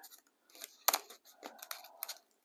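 Tape being pulled off a roll and torn for a paper-craft Valentine's spin message box, several short crackling rips and snips close by, no talking.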